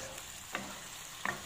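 Tomatoes and squash stirred together in a pan for a squash shakshuka, a faint steady sizzle with two quick spoon scrapes against the pan, and no talk.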